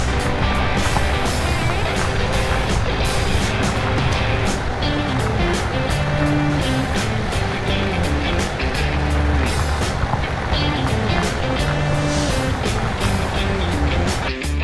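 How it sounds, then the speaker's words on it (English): Steady, loud engine rumble of a tractor driving over a bumpy field in Farming Simulator 2017, with constant rattling and clunking, continuous throughout with no speech. "Tractor wheels are bouncing up right royally on that bit"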